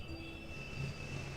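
A train rolls along the railway with a steady rumble and a high, sustained wheel squeal, heard alone at moderate distance.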